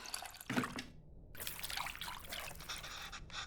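Water poured repeatedly into a bowl of tamarind in the Venba cooking game, a soft trickling and splashing that comes in short bursts, with a brief pause before a longer, steady pour.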